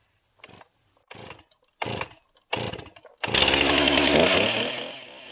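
A chainsaw fitted with a new chain is started on sawmill slabs: four short separate pulls and sputters, then the engine catches and roars loudly and close as it cuts, easing off at the end.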